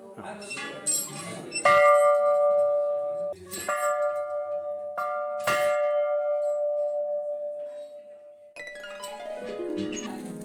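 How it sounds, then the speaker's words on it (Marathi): An old temple bell engraved 1737 at the Rameshwar temple in Pawas, beside a coastal creek, is struck about five times at uneven intervals, each bright clang ringing out and slowly fading close by. "या देवळातली ही जी घंटा आहे त्याच्यावर 1737 असा कोरलाय. त्याचा घंटानादही मधुर वाटतो."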